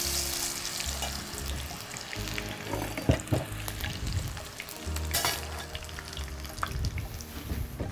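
Skin-on potato wedges fry in hot oil with a steady, close sizzle and crackle, broken by occasional stirring clatters.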